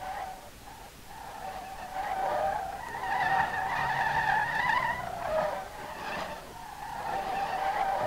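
A video game car in SLRR with no rear tires drifting, its tires squealing in long sliding bursts over a steady engine drone; the squeal swells and fades across several slides, fairly close, with no talk.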